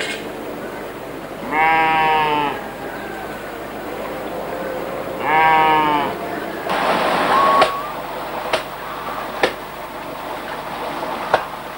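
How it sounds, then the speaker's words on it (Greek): Goats on a monastery farm let out two loud, harmonic bleats a few seconds apart. Quieter farmyard knocks and a few sharp clicks follow against low background noise. "κατσίκες που με το γάλα τους κάνουν τυρί"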